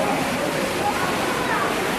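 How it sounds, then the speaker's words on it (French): Rushing water roars at the wild river ride of the Aqua Mundo indoor water park at Center Parcs Bois aux Daims, a steady, dense wash of noise with no break. "Et l'arrivée de la rivière sauvage est ici en fait."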